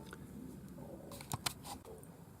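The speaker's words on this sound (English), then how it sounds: "I can cut the wire to length" Wire being cut to length for a ring, a sharp metallic snip with a couple of quick close clicks from the cutters against a quiet background.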